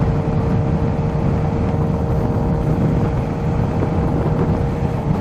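Kawasaki ZH2 motorcycle engine under way while riding, a steady loud drone with constant low rumble and a faint tonal whine, mixed with wind buffeting the microphone, continuous for the whole stretch with no talk.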